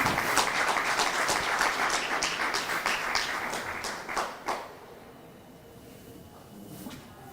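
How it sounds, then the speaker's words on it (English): Conference attendees applaud as the vice chancellor's representative is welcomed, a burst of dense clapping with distinct sharp claps that fades out after about four and a half seconds, leaving a quiet room with a few faint taps. "Let's give him a clap."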